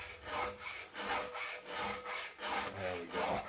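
Metal file rasping across a saw's teeth in steady back-and-forth strokes, about seven even rhythmic scrapes, close but fairly quiet, with no talk.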